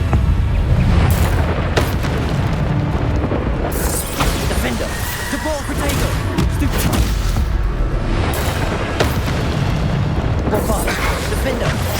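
Bombarda spell explosions in the Hogwarts Legacy game: repeated booming blasts and crashing bursts over dense combat effects and music, loud and nearly continuous, with spell casts and impacts piling on one another.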